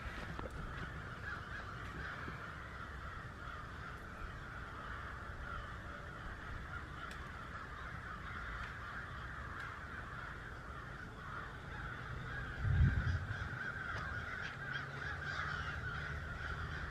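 Crows caw loudly from a distance near an old grave site, with repeated harsh calls over steady wind and ambient outdoor noise.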